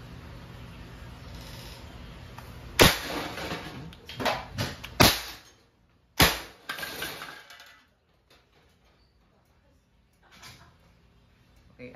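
An Umarex T4E TR50 Gen 2 CO2 revolver fires several sharp, loud cracks in a quick irregular series at close range, each followed by a short mechanical click, then quiet.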